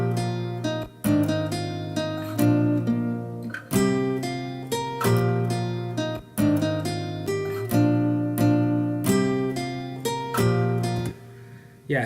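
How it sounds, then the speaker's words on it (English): A guitar sample pitched up and chopped for a chill 90 BPM beat plays as bright plucked chord stabs in a repeating rhythmic pattern, each chop decaying before the next, loud and alone. "so I pitched it up and chopped it."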